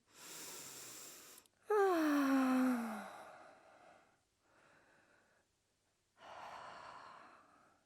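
Slow breaths in and out during a guided yoga session, a long audible inhale-exhale followed by softer breathing and another breath, close and alone without talk.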